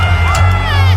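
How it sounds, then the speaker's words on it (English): A boxing crowd at the Jake Paul vs Tyron Woodley fight, a dense, sustained roar of cheering and shouting from a large audience, loud and steady throughout. "The crowd on its feet."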